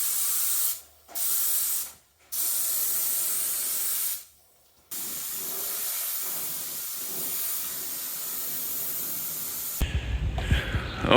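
Primer sprays in a steady hiss onto a restored Cushman Truckster frame, first in three short bursts with pauses, then in one long continuous pass, close and loud.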